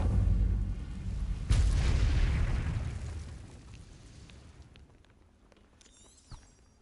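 A fire spell is cast in the video game Hogwarts Legacy, giving a sharp booming burst that rolls into a fading roar of flame and quiets over several seconds, with a smaller pop near the end.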